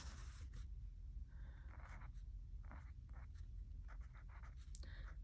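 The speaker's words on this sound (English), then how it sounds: "I think I'll go ahead and write camping in it." A hand writes in a small paper planner (a Mini Happy Planner), probably in green, making very faint, close scratchy strokes in short bursts with brief pauses between words.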